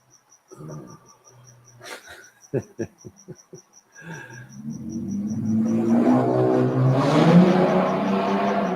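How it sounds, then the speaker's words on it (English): A car approaches and passes nearby, its engine and tyre rumble swelling steadily to a loud peak near the end, following scattered clicks and taps in a shed with insect-like chirps. "And there goes old mate in his car."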